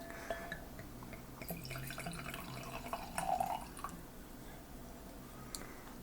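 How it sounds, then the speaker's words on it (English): Homemade plum wine, a year old, trickles and drips into a glass. The pour is faint and close, made of small splashes with a brief fuller gurgle midway, and no one talks. "if you go ahead and pour yourself a very small amount"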